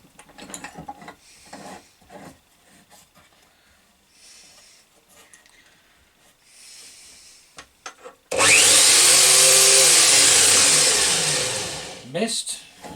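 A Lidl Parkside PMB 1100 A1 metal-cutting bandsaw cuts through aluminium, a loud, steady, broadband grinding scream lasting about four seconds that fades as the cut ends, preceded by quieter handling and mechanical clicks.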